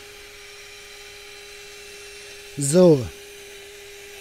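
A power screwdriver drives a screw into a motorhome awning support, one short whirring burst that rises in pitch over a low steady hum, with a brief spoken word nearby.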